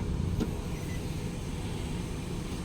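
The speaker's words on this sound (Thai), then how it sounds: "ระบบกระจกไฟฟ้านะครับ ผมใช้งานปกติ" Electric power windows on a 2014 Nissan Juke E run with a steady low motor hum inside the car, one short click near the start, and no voices.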